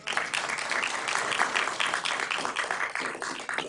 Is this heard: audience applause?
yes